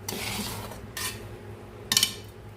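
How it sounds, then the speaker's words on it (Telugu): Tamarind rice (pulihora) with curry leaves being mixed in a pan, giving a few scraping, clattering utensil strokes against the metal with short pauses and a sharper clink near the end, close and fairly quiet. "మనం దీంట్లో వేసేసుకొని కొద్దిగా ఈ విధంగా కలుపుకుంటూ ఉండాలి."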